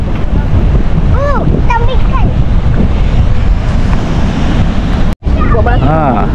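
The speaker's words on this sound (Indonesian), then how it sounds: "So kita pergi, kita lepak pantai dulu." Wind and surf on the beach at a resort in Desaru, Malaysia, a loud constant roar of wind buffeting the microphone over breaking waves, with people talking and a brief dropout near the end.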